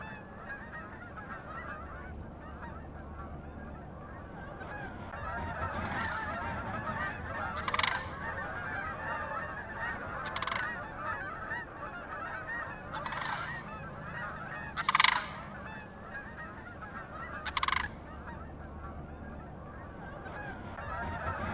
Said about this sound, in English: Canada geese and sandhill cranes have been roosting somewhere they have a good view of any eagle approaching